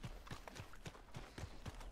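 Horse hooves clip-clop at a steady trotting rhythm in the Red Dead Redemption 2 video game, faint and even beats over a continuous background wash.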